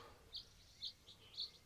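Birds nesting in the corner of a three-wall hut on Santa Rosa Island give three faint, separate chirps spaced evenly apart over a quiet, hissing outdoor background.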